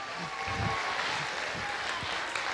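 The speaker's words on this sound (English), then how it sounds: "Give yourselves a round of applause" Audience applause at a morning drama and dancing session, a steady broadband wash of clapping heard fairly close and continuous throughout, with no clear talk over it.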